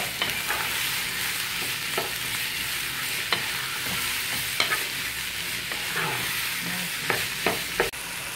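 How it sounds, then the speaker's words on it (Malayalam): Sliced onions sauté in a pan for Kerala-style mutton curry, a continuous close sizzle broken by repeated scrapes and taps of a stirring spoon, with no talk. "അത് കട്ട് ചെയ്ത് വെച്ച് നമ്മൾ അതിനകത്തോട്ട് ഇടുക. നല്ലപോലെ വഴറ്റുക."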